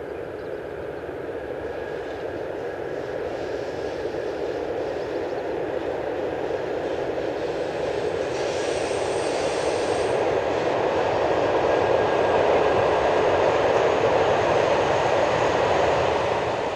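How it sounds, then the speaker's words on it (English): A southbound freight train hauled by a pair of BLS Class Re 4/4 electric locomotives rolls past with a steady, rising rumble and hum that swells gradually louder over the stretch, with a brief high whine partway through. "This is a southbound freight headed by a pair of BLS Class RE 44s"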